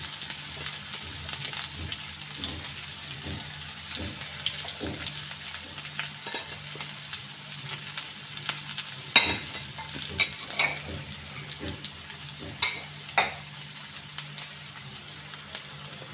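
Finely chopped onion with ginger-garlic paste fries in a pan until browned, giving a soft continuous sizzle with gentle stirring scrapes and a few louder utensil taps toward the end, and no one speaking.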